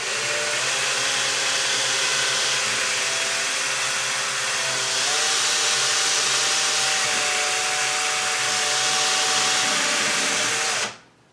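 An electric drill bores slowly through a kitchen cabinet door for a knob hole: a steady, loud motor whine holds for about eleven seconds, shifts slightly in pitch midway, then cuts off abruptly.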